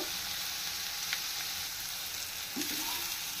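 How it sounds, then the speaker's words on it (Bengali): Carrot and cauliflower stir-fried in a pan for a vegetable roll filling give a continuous gentle sizzle, with a couple of brief scrapes of stirring near the end and no talk. "ফুলকপি এবং গাজর আমি 1 মিনিট একটু খুব ভালোভাবে আগে ভেজে নিয়েছি"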